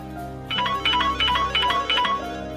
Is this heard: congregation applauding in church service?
no